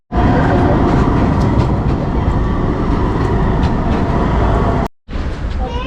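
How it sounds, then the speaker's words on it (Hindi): A tram pulls into a station in Strasbourg, France, a loud, steady rumble of wheels and motor close by that holds for about five seconds, cuts out briefly, then resumes. "तो ये ट्राम आ गई हो।"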